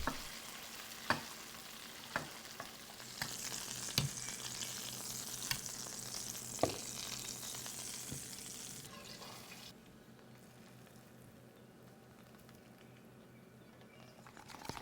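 Lamb porterhouse sizzles in a pan with melted butter, crushed garlic, rosemary and thyme as it is basted, a steady frying hiss broken by sharp spoon clinks on the pan, then the sizzle drops to a quieter hum.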